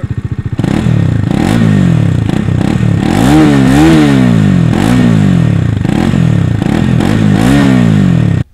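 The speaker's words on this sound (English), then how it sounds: "Let's listen to the exhaust note." A 2019 Bajaj Dominar 400 with a stock dual barrel exhaust revs repeatedly close by. The loud, bassy engine note rises and falls through several throttle blips over a steady idle.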